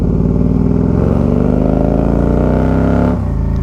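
Can-Am three-wheeler with a manual gearbox revs steadily and loud and close, the engine pitch climbing before an abrupt drop as the throttle lifts.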